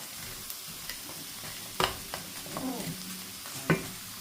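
Onions sautéing in a pan at home, a quiet sizzle broken by a few sharp clinks and scrapes of a utensil against the pan, nearby and without talk.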